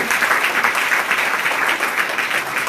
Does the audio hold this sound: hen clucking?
no